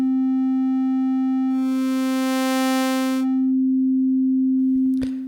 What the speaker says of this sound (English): Sine wave, because there's no harmonics.